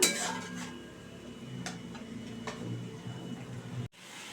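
A spoon stirs yogurt into a mustard pabda fish curry in a pan over a low gas flame, giving a few soft, scattered clinks and scrapes against the pan over a quiet background that cuts off abruptly near the end.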